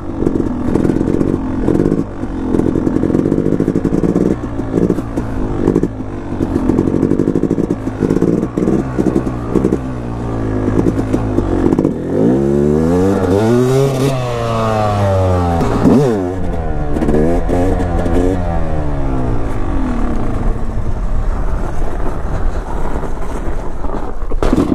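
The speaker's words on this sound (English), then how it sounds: "I'm gonna go do some wheelies!" A dirt bike on an icy surface revs hard during wheelies. The loud engine roars continuously, with pitch swelling and dropping through repeated throttle blips and climbs, and the bike stays close throughout.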